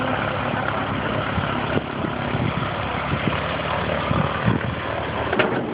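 A vintage B-25 or B-17 bomber's piston engine runs steadily at idle after starting, a loud, constant low rumble with a few sharp knocks and no talk over it.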